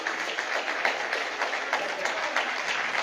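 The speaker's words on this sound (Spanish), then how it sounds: "Da un aplauso al Señor." A church congregation claps steadily and loudly together during a worship service, a dense even patter of many hands sustained for several seconds.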